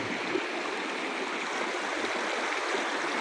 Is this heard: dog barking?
no